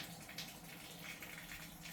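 A Hygger water pump drains an aquarium, giving off a steady, faint rush of flowing water with a low motor hum beneath it that never lets up.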